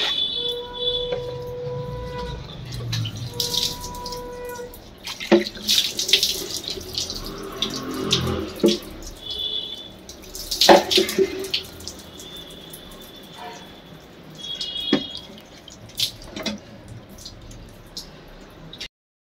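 Tap water runs and splashes in a sink while tamarind seeds are washed and strained, steady flow with drips and squishy handling noises, fairly close, no talk.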